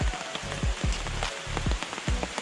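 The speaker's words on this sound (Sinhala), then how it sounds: "මේ වෙලාවේ මේ තැනට වැස්ස ටිකක් ඇදහැලෙනවා" Light drizzle falls steadily on leaves in the Kodigahakanda forest sanctuary, a soft continuous patter with scattered nearer drops, fairly faint and free of talk.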